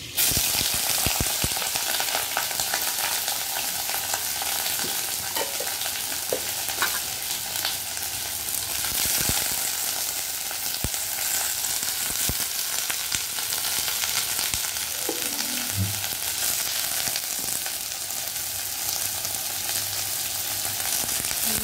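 Ivy gourd (kundru) hissing and sizzling steadily in hot oil, a loud dense frying crackle that runs unbroken throughout with occasional stirring clatter.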